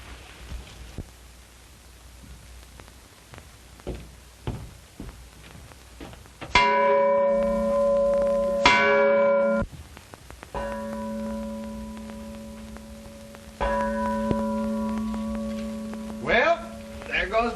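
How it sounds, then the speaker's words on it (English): A bell rings out in two loud, sustained tonal bursts, then rings again in longer resonant strokes over faint patter and rustling, with brief sharp ringing near the end; no talk. "Well, there goes the bell."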